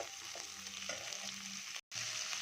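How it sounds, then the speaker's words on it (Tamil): Tomatoes with salt sauté in a pan with a steady, close sizzle and light stirring sounds, broken by a brief silent gap near the end, with no talking. "தக்காளி போட்டேன்னா இதில் கொஞ்சம் உப்பு போட்டு நல்லா வதங்கணும்"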